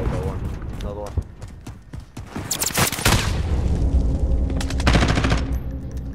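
Rapid bursts of automatic gunfire in a team shooter game, a six-versus-three match, crackling near and loud amid booms, with players talking over it throughout.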